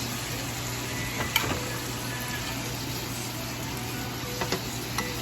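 Pork tenderloins sear in a hot skillet, giving a quiet, continuous sizzle with a few sharp clicks and taps from handling the pan. No one speaks.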